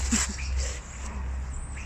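A dog whimpers and fusses indoors with thin, high whines and a short sniff, fairly close and moderately loud over a low background hum.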